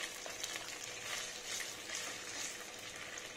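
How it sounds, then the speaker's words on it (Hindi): Finely cut paneer frying in ghee in a kadai, a continuous bright sizzle that crackles steadily and fairly softly throughout, no voices. "मैंने कढ़ाई के अंदर यहाँ पर घी लिया है और इनको हम अच्छे से यहाँ पर फ्राई करेंगे।"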